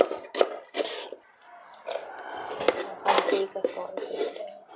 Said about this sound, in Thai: เดี๋ยวเราซอยก่อนแล้วก็เดี๋ยวเราตำให้ นี่นะครับตำให้ละเอียด